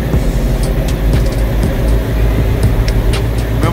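A Dodge Challenger's 5.7-liter 345 Hemi V8 with an upgraded camshaft and MDS delete roars steadily on a dyno, a loud, continuous low rumble with no talking.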